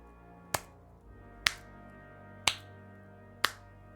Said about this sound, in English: the somewhat muted, half cloth, half gauntlet covered clanking sound of somebody clapping